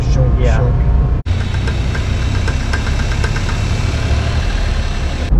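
A Japanese kei mini truck on a test drive, suspected of a bad CV joint, hums with a loud, steady engine drone and a faint repetitive knocking, with one brief cut in the sound.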